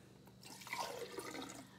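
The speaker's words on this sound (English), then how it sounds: "I'm going to put about a cup of water in here." About a cup of water is poured onto torn paper pieces for making plantable paper, a close, soft trickling splash that starts after a brief quiet moment and keeps running, with no talking.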